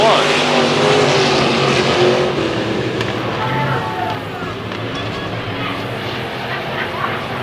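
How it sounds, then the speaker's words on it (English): Race cars, including a Camaro, roar around a speedway in a steady, loud engine drone with passing swells, under a track announcer's continuous commentary. "Number 1 Camaro running the bottom side of the speedway"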